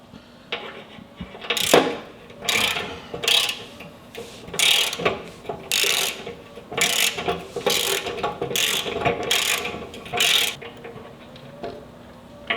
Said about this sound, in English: I'm using a 1/4" socket, Allen style